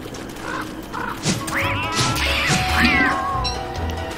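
Cat meowing in the video game Don't Starve: Reign of Giants: a couple of short meows followed by longer, wavering yowls over a busy game background, fairly close and clear, with no voices.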